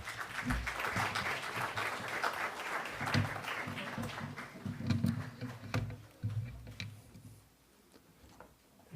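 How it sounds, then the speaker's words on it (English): Scattered audience applause at an e-learning conference welcoming the keynote speaker Bruce McLaren: individual claps stand out over a thin background of hands, fading gradually toward the end. "Please welcome him with a big round of applause."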